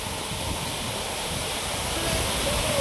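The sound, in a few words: Moopun waterfall water rushing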